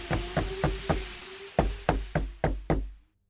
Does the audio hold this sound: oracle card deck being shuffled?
no